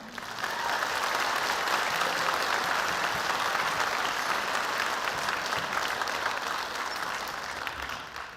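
A school band concert audience applauds the stage crew with sustained, even clapping from a sizeable crowd, loud and continuous for several seconds before easing slightly near the end.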